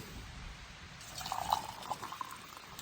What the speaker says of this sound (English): I did just pour that all over the table